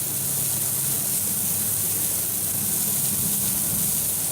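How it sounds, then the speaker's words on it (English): A steady, continuous hiss of liquid dish detergent being sprayed onto an asphalt driveway, close and fairly loud, unbroken for the whole stretch with no talking. "Just spray it all in there."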